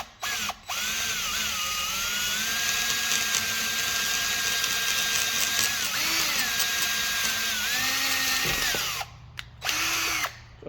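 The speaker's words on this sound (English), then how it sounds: "the drill bit actually bites in there pretty good" A power drill drills out hard rivets on a Yoshimura muffler, whining steadily for several seconds close by, the pitch dipping as it bites in, then stopping with a couple of short bursts.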